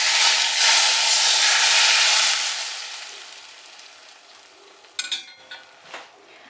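Hot sunflower-style cooking oil poured over shredded carrots for a Korean-style mushroom salad sizzles loudly for a few seconds, then fades to a faint hiss with a few clinks near the end.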